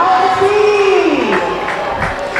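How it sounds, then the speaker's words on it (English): Crowd at a school swimming meet cheering a gold-medal swimmer, a loud, sustained roar of voices with shouts and whoops in a large echoing pool hall, a long rising-and-falling whistle or call sweeping across it. "And a big cheer for Hadley."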